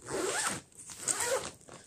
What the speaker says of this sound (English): and I'll zip it up.